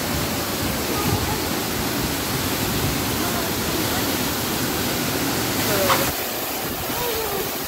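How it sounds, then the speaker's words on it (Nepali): Namaste Waterfall pours with a continuous broadband roar, dense and unbroken, filling the whole moment at close range. "नमस्ते झरनामा आएको छौँ।"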